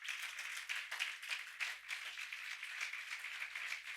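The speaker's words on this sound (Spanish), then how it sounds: "¿Cuánto le dan un aplauso a Jesús por eso?" A crowd applauds with steady, continuous clapping, distant and soft, lasting throughout.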